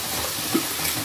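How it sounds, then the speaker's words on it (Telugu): Onions, green chillies and tomato frying in hot oil, a steady faint sizzle with a small stirring knock partway through, no voices. "ఆయిల్ వేడెక్కిన తర్వాత దీనిలో ఉల్లిపాయలు, పచ్చిమిరకాయలు, ఒక టమాటా వేసుకోవాలి."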